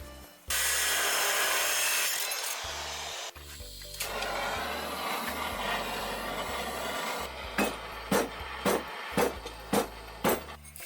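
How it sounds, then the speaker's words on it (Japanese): A piece is cut to length and fitted into place. A harsh, continuous cutting noise lasts about two seconds, followed by scraping and rubbing, then roughly six sharp taps spaced evenly near the end. "こっち側も長さを決めてカットしてはめ込んじゃいます。"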